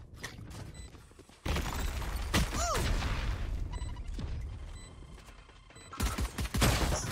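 Valorant firefight with rapid close gunshots, mechanical clatter and whooshing ability effects; a dense loud burst kicks in, sustains for several seconds, then a second volley of sharp shots follows near the end.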